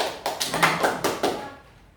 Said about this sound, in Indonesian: Tepuk tangan dulu buat Bang Andi dan buat kita semua